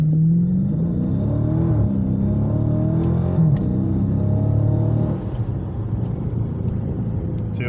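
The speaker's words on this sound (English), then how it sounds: "I'm going to go right from a dig, and I'll show you throttle control." A Dodge Challenger 392 pulls hard from a dig with controlled throttle, its loud, deep engine rumble climbing and shifting in pitch as it accelerates, then settling to a lower roar.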